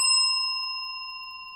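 A single bright ring from a saloon bell, struck once and left to decay slowly and cleanly over a second and a half, alone with no talking.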